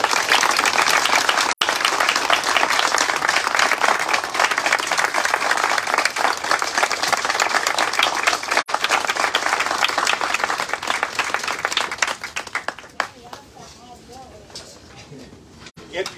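An audience at a ribbon-cutting ceremony bursts into sustained, dense applause that continues strongly for about twelve seconds before thinning into scattered claps, with voices mixed in.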